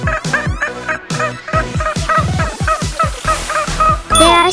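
Turkeys on a farm gobble in rapid, loud, overlapping calls, one burst after another with brief gaps, ending with a higher, brighter note at the close.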